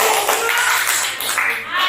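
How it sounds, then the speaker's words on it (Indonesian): A classroom group claps together during a guidance counselling session, a dense, continuous patter of many hands close by that holds steady for about two seconds, with no talking over it. "Tepuk tangan."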